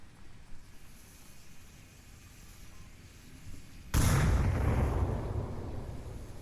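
A grenade goes off in the VR shooter Onward after quiet ambience: a sudden loud, nearby boom that rumbles into a lingering roar.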